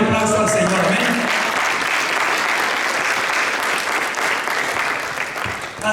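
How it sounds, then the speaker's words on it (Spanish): Church congregation applauding during a Sunday service in Beaverton, Oregon, a loud sustained roomful of clapping with a voice over it at the start, tapering slightly toward the end. "Den un aplauso al Señor"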